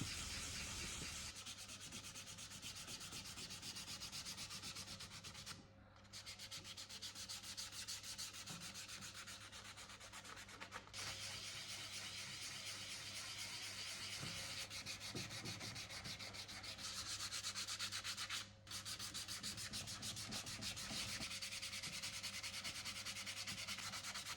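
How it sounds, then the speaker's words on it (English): Steady, continuous rasping of fine-grit hand sanding on the wood veneer of a 1800s French Rococo Revival table, a fine even scrubbing that runs on with only two brief pauses. "I'm sanding by hand as always, and with a fine grit as not to damage the veneer."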